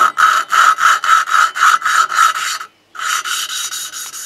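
Hand lapping of valves on a Husqvarna YTH150 lawn tractor engine, rapid rhythmic back-and-forth grinding rasps with wide strokes, close and loud, pausing briefly before the scraping resumes, no talk.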